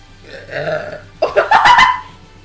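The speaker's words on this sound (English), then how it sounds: "I need to burp" A loud, close burp erupts after a brief murmur, a long guttural belch with a rough, rattling tone, heard alone without talking over it.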